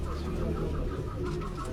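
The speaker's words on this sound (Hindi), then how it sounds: "ये मेरी स्क्रीन पे आप जो कबूतर इस वक्त देख रहे हैं ये टुनिया कबूतर सियालकोट की" Brief, low cooing from a Tunia pigeon of the Sialkot breed, muffled and continuous over a soft background murmur.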